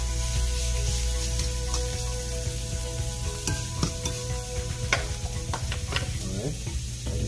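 Ackee cooking in a hot pan for a vegan pizza topping: constant sizzle of frying with scraping stir strokes and small crackles, close up, no talk.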